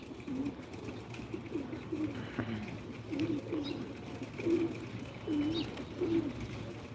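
Pigeons coo repeatedly in a steady rhythm while feeding on scattered peanuts and mung beans, soft throaty calls close by over a constant outdoor hum.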